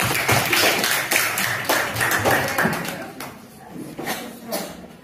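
A classroom group claps together for a presenting group, a dense burst of overlapping hand claps that starts loud and gradually thins out over several seconds, with some voices mixed in.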